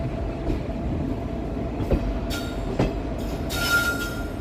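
A passenger train runs through a switch near Wankaner Junction, heard from on board with a steady rumble, a few sharp wheel clunks over the points, and a brief high squeal near the end.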